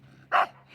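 Rocky, a dog eager to play with his stick, lets out a single short, sharp bark close by, then goes quiet.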